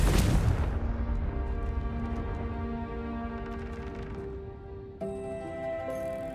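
Confringo blasting spell explosion in Hogwarts Legacy, a sharp loud boom at the start that decays into a rumbling tail, followed by steady game ambience and tones.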